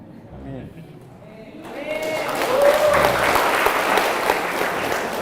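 At a lecture on an Islamic student organisation, a voice is followed by an audience that swells into applause, the clapping growing loud and continuing to the end with scattered voices mixed in.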